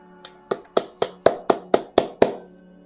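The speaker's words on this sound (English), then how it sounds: "Bentley's clapping." About nine sharp, evenly spaced hand claps, close and loud, rising slightly in strength over roughly two seconds before stopping.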